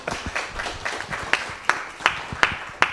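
A small audience at a panel discussion on nutritious food systems applauds, with scattered hand claps growing into distinct, evenly spaced claps that stand out clearly.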